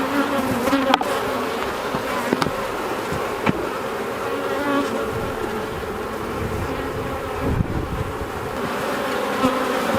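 Honey bees buzz around an open hive, a dense continuous close-up drone with a few faint knocks and clicks of hive work underneath.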